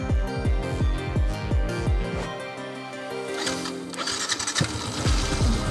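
A Yamaha FZ V2 motorcycle engine with a faulty self-start relay cranks in rapid, regular starter pulses, goes briefly quiet, then fires and catches with a rough, close, loud idle.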